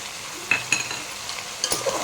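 Yogurt being stirred into a chicken pulao mixture in a pot, heard as faint scraping strokes and a few soft clinks of a spoon against the pot over a low, steady kitchen background.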